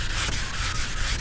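A car hood being wet sanded by hand, a steady, close, loud rasping rub with faint rhythmic strokes, no voices.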